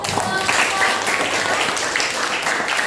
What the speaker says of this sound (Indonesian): Oke, beri aplaus dulu.